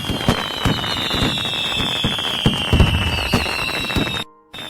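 Fireworks salute bursting in an animated cartoon: a dense, continuous run of loud crackling pops and bangs with a high whistling streak overhead. It cuts briefly to silence near the end, with no voices.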